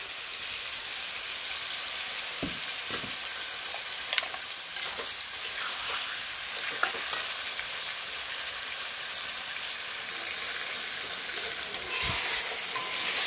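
Meat frying with ginger garlic paste in a pan for a curry, a loud, dense, continuous sizzle like heavy rain, with scattered spatula scrapes and knocks as it is stirred, close up and with no voices.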